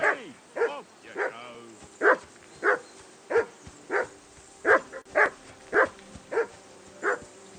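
A dog in the video game Kingdom Come: Deliverance II barks steadily and close, about fourteen sharp evenly spaced barks, loud and alone with faint background hiss.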